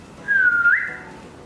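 A single clear whistled note, held steady then sliding upward briefly before fading, heard alone against a quiet background.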